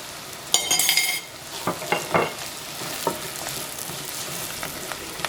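Chili powder sizzling and frying in hot oil in a pan for a shallot tamarind curry, a steady sizzle broken by a brief loud hiss and several clinks and scrapes of a spoon stirring the pan, with no talking.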